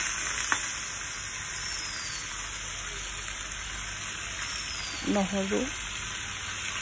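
Small fish curry with jujube sizzles in a pan with a steady, dense hiss throughout. A brief voice is heard near the end.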